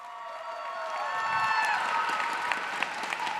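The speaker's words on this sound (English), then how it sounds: "A big round of applause for Fusion," A crowd at the F1 in Schools World Finals in Abu Dhabi applauds and cheers for a team from Germany, moderately distant and swelling slightly, with sustained musical tones running underneath.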